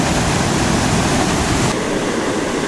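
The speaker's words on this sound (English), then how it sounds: "Now that's a wall of water right there, folks." Dam release water roars as a steady, dense wall of rushing noise, heading downstream toward Bull Shoals, Arkansas; loud and continuous, with no voices.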